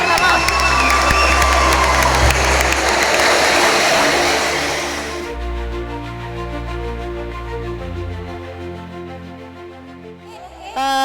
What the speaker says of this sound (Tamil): ஸோ இவங்களுக்காக எல்லாரும் ஒரு பெரிய கைத்தட்டல் போடலாமா?